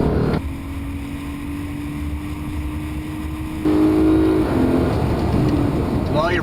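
A Lexus IS on a race track pulls out of a corner, the engine note climbing steadily and loud with wind rush, and someone talks over it.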